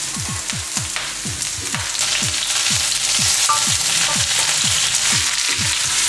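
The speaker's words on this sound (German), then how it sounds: "lasse mal kurz braten, dass das Ganze ja Farbe kriegt und rühre es dann nach und nach ein bisschen durch" Vegetables fry in a hot wok with a loud, dense sizzle, punctuated by a steady series of rhythmic thumps and scrapes from stirring.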